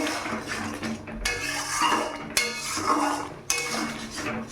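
Spice paste with salt for koi fish curry being sautéed in a pan over a raised gas flame, with metal utensil scrapes and clinks against the pan in a few distinct strokes over a low background hiss.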